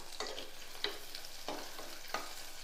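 Onions sizzle steadily in a pan while a spoon scrapes and stirs in four evenly spaced strokes.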